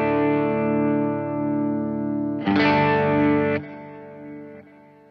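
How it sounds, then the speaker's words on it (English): Electric worship guitar run through a straight delay pedal: a sustained chord rings steadily, a brighter strum cuts in midway, then the repeats fade and trail off into a quieter tail; no talking. "this is just a straight up delay"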